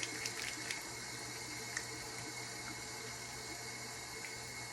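Warm water runs steadily from a bathroom tap during face washing, a constant broadband hiss with a few faint clicks and splashes, fairly quiet and alone.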